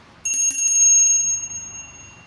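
A single bright metallic bell rings out close by and rings on, slowly fading with a sustained shimmering tone.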